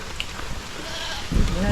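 A goat lets out a single short bleat near the end, rising out of a quiet, faintly noisy background.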